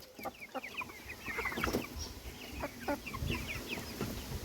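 Several backyard chickens cluck and chatter in short, overlapping calls, close and fairly quiet over a low background rumble.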